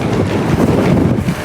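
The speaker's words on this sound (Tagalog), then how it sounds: "Ang lakas ng hangin pa." Strong, cold wind buffets the microphone outdoors in Japan, a loud continuous roaring rumble with no pauses.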